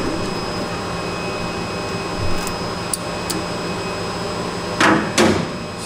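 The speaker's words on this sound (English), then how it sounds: "just move the turret out of the way there" A CNC lathe turret indexes out of the way during multi-start thread testing, giving a steady machine hum with a short double whirring surge near the end.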